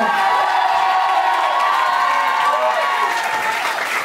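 Wedding guests greet the couple's entrance with loud, continuous applause mixed with cheering, whoops and excited children's shouts, with voices blended into the steady roar.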